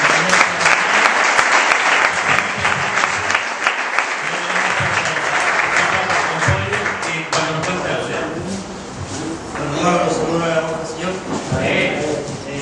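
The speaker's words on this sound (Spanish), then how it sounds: "quisiera invitar a nuestra hermana Escalona, que pase un aplauso cariñoso." A church congregation at a ministry service breaks into warm, sustained applause, a loud, dense clapping that rolls on for the whole stretch with slight swells and some voices mixed in.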